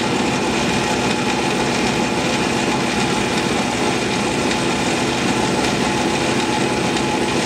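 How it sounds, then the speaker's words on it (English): A metal lathe runs steadily and loudly, giving a continuous mechanical whir and hum with no pauses and no voices. "I'm going to shut the lathe off"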